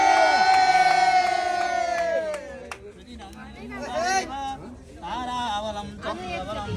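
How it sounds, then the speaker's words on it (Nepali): Wedding guests cheer, whoop and chatter as a loud crowd, with children shouting and lively voices over a background of music; clapping is not distinct. "ल सबैले ताली मारौँ।"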